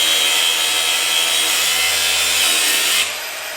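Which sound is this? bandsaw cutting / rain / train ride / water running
bandsaw cutting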